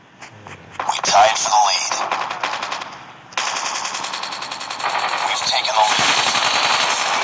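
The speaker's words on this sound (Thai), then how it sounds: "โดนยิงอีกแล้ว" Rapid automatic gunfire in the mobile shooter Call of Duty Mobile, loud bursts of rattling shots starting after a quiet opening and continuing almost nonstop, with game sounds layered beneath.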